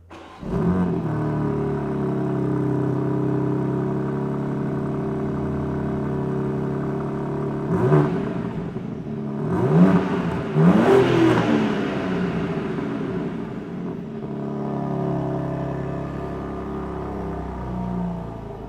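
A 2023 BMW M2 idles with a low, steady engine rumble, then is revved hard in a few sharp bursts to about 3,500 RPM before settling back to a smooth idle, heard close from behind the car.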